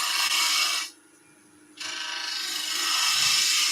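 A gouge cuts a wooden spindle turning on a lathe, making a loud, continuous hissing scrape. It breaks off for about a second as the tool lifts away, then the cut resumes steadily, close by.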